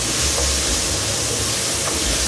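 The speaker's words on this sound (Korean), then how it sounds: "이제는 나무주걱으로 잘 볶아주세요" Kimchi sizzling in a hot pan as it is stir-fried with a wooden spatula, a steady loud hiss with faint scraping, no talking.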